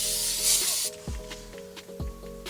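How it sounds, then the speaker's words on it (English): Brake cleaner spritzed onto rusty car underbody: a loud aerosol hiss for about a second, then quieter short bursts and scraping taps. "I'm going to start with some brake cleaner just because it's quick, like I said. So give it a quick spritz."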